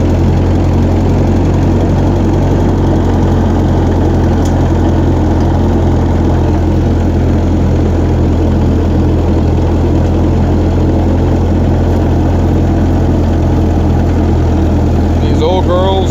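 Old refurbished tractor engine idling outdoors at night, a steady low rumbling drone with constant heavy low-end throb, loud and continuous throughout, with a brief rattling clatter near the end.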